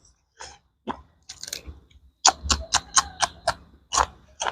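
Crunchy winged beans are chewed close to the mic, with a run of sharp, crisp bites and crunches in uneven rhythm and a few quiet pauses between.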